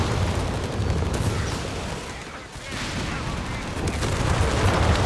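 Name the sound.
artillery fire in video game Company of Heroes 3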